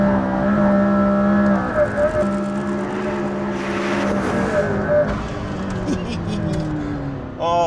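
A McLaren P1 supercar's engine drones and revs while driving, a continuous tonal roar that rises and falls in pitch with gear changes, heard under someone talking.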